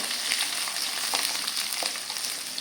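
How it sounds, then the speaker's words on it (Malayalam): Sliced carrot and bitter gourd pickle mixture stirred in a frying pan, a steady close sizzle with soft scraping strokes of the spoon running throughout. "ഇനി അത് രണ്ടും കൂടെ നമുക്ക് ഒന്ന് ഇളക്കി കൊടുക്കാം"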